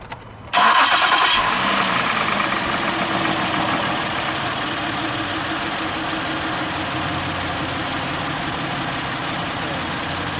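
A truck engine cranks and catches after an oil change that took 8 quarts, then settles into a steady, loud idle that runs on alone without talk.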